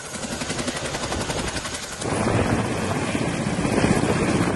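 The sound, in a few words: Air Force Chinook or MI-17 helicopter flying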